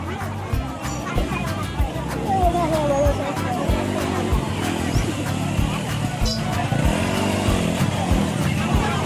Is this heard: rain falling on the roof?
no